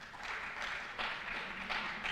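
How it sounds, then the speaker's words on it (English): Audience at a school science and maths quiz contest applauding the competing teams, a soft, steady patter of clapping with slight swells, fairly distant and quiet. "please clap for them"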